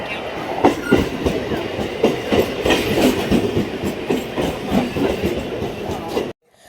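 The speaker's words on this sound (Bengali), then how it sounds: "ট্রেন এসে গেছে।" A train pulls into a station with loud, near rhythmic clickety-clack of wheels over rail joints and a rumbling carriage noise that cuts off abruptly near the end.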